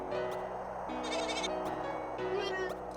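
Cartoonish sheep bleats in the video game Sunfluffs, a few short wobbly cries breaking over game music with buzzy insect-like tones, fairly quiet.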